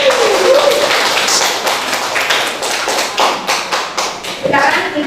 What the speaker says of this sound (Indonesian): Tepuk tangan untuk Tito.